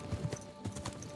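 Horse hooves clip-clop at a steady walking pace in a video game, Kingdom Come: Deliverance II, fairly close and moderately loud, with a faint tonal hum underneath.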